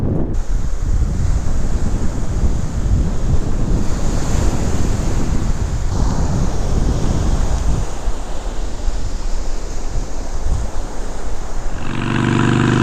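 Ocean surf rolls onto a beach in a steady, loud wash of breaking waves, with heavy wind buffeting the microphone and no voices.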